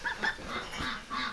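Small duck giving a few short honking quacks in a farm pen, clustered early and late in the burst, fairly close.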